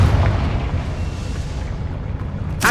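A loud, deep rumbling blast from the Confringo fire spell in Hogwarts Legacy fills the whole moment, rolling and sustained, with a brief crackling burst near the end; no talk.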